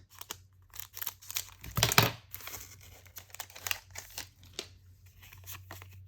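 A Japanese Pokémon Scarlet booster pack of trading cards is torn open by hand: crinkly foil tearing and crumpling comes in short, close bursts, with the loudest rip about two seconds in and lighter rustles on either side.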